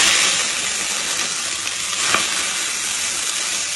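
Chopped onion drops into hot ghee and a little oil in a pot, giving a steady, close, broadband sizzle with a brief louder crackle midway. No voices.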